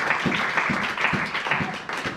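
A church congregation at a French-language seminar on the Rapture claps in steady rhythmic beats, a crowd applauding together in a lively, even pulse.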